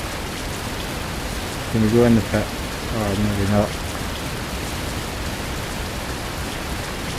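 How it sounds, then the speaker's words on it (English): Rain in Fernbus Simulator hisses as a steady, even wash of noise the whole way through, while someone speaks briefly over it. "Sounds like it's raining."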